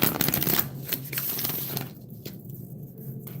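Tarot cards being shuffled by hand, a close, soft run of quick riffling pats and flicks that fades out after a couple of seconds into near silence with a last light tap.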